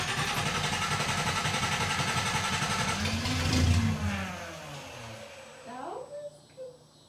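A vintage car's failing starter motor cranks the engine, which catches briefly with a rising rev before dying away, followed by a few faint clunks and squeaks near the mic.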